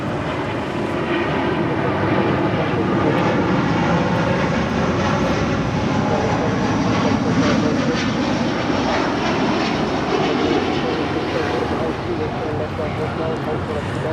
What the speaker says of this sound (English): This is Delta Airlines Flight 7 departing to Tokyo Haneda on the A330 NEO